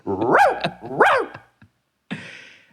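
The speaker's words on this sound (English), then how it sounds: "That bark?" A dog barks twice in quick succession, loud and close, each bark sliding up and down in pitch, followed by a short growly yelp after a pause; no talk over it.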